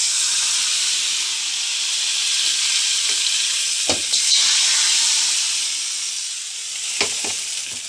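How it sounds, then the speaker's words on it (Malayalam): Papadam frying in hot oil for a home-cooked sambar lunch, with a loud, continuous sizzle and hiss up close, interrupted by a few brief clinks. "സാമ്പാർ റെഡിയായി പപ്പടം വറുത്തു"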